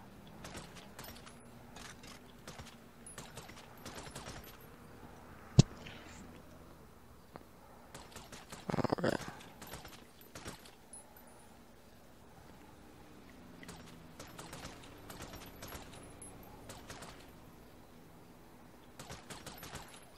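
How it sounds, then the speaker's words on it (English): Nail gun firing during a roofing job in GTA 5, faint quick taps in clusters with one sharp louder bang and a short burst of noise, over a low ambient hum. "Nail gun."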